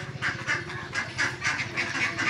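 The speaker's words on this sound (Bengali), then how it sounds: "এই যে মায়ের হাঁস" A village duck calling close by, a rapid string of nasal honking quacks repeating steadily and fairly loud, with no talk.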